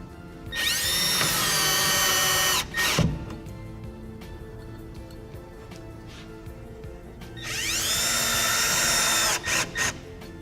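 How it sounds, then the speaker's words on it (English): A power drill backs screws out of PVC on a board during a GIB Ready Lock lining install, with two loud whirring bursts that rise in pitch and then wind down, separated by quieter clicks and handling. "now I'm going to screw the PVC off"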